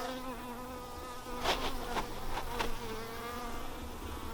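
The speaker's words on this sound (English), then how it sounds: "we got bees flying everywhere right now" Several bees buzzing around outdoors in warm weather near a roof, their drones rising and fading as they pass close by over a steady background hum.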